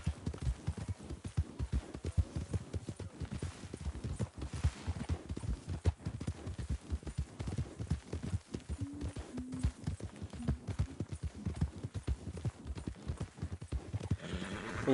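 Horse hooves clip-clop in steady, rapid rhythm throughout in Red Dead Online, close and continuous, with a brief faint whinny-like tone partway through and no talking.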